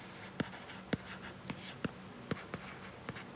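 Pen or chalk writing out a class 10 maths solution, a steady scratching with about a dozen crisp, evenly spaced taps as figures are marked, close and alone with no voice.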